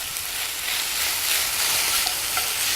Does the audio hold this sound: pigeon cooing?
no